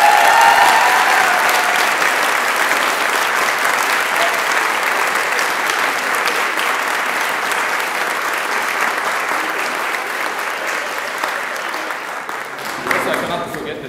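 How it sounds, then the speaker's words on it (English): A concert audience at a youth singing show claps for the parents, loud, full applause that starts strong and slowly tapers over about fourteen seconds, with faint voices and cheers mixed in near the end. "let's clap for the parents."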